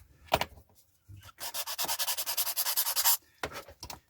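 A plastic model aircraft wing on a 1:72 Airfix MiG-17 Fresco kit is sanded with quick, close back-and-forth rasping strokes in a steady burst, framed by a few scattered taps and rubs before and after.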